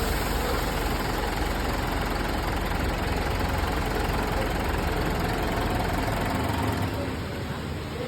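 A Mitsubishi Montero's engine idles during an engine flush, a steady, close, dense knocking rumble with a faint dip in level near the end.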